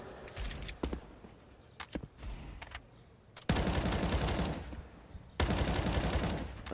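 Rapid gunfire bursts in a Counter-Strike match on the Inferno map, loud, sustained volleys of automatic fire starting around midway and resuming after a brief lull, with scattered single shots and footsteps earlier.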